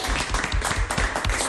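A studio audience claps for a guest in a short burst of close, lively applause with distinct hand claps, brief and busy without any speech over it.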